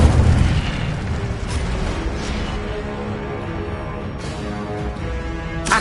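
Burst of fiery spell impact from the Incendio fire spell in Hogwarts Legacy, a loud whooshing boom at the start that settles into a sustained crackling rumble with a few sharper pops later on.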